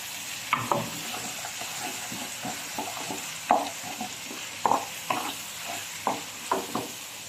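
Garlic sizzles in a frying pan, a steady crackle broken by repeated sharp scrapes and taps of a stirring utensil against the pan, with no talking.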